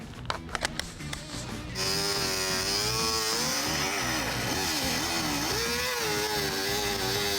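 A power tool saws through the body panel of a 1971 Chevy Caprice along a taped line, a few brief ticks giving way to a loud, steady whining buzz that rises and falls slightly in pitch, close and continuous.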